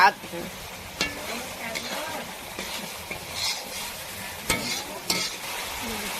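Whole spices and Kashmiri chili powder sizzle in hot oil in a home kitchen pan, with a spoon scraping and stirring in irregular strokes and occasional sharper clinks over a steady frying hiss.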